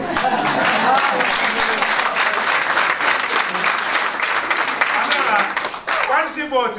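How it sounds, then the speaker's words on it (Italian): Sustained applause from a theater audience, loud and steady throughout, with a few cheers and voices rising near the end. "un applauso"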